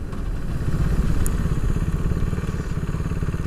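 A KTM RC390 single-cylinder motorcycle engine revs hard near 6,500–7,000 RPM, a loud, steady, throbbing drone with a rapid pulsing beat and no talk over it.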